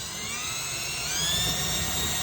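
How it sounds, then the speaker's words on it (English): A small drill bit whirs steadily into a solar battery box, a high continuous whine with rising tones that holds throughout at close range. "So I'm gonna drill into here"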